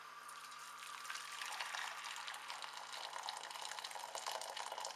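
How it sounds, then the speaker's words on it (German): Boiling water being poured onto chamomile flowers in a pot for a facial steam bath; a soft, continuous splashing pour, fairly quiet and close, with no voices. "Und dann gießt ihr einfach das kochende Wasser"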